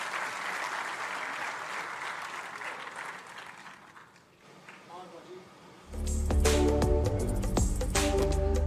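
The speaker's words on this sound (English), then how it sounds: "Please, a huge round of applause, and may I call upon stage Kapil Sharma." At Punjab's first Tourism Summit and Travel Mart, a large audience breaks into loud, sustained applause and cheering after a quieter stretch of a presenter speaking over a microphone.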